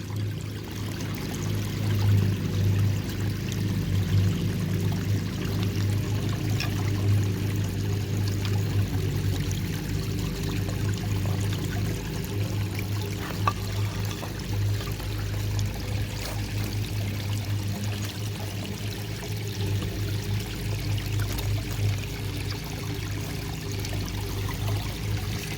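A leak in a garden pond waterfall lets water pour and trickle in a steady, close stream, a continuous low splashing flow with a faint hum underneath and no talking throughout.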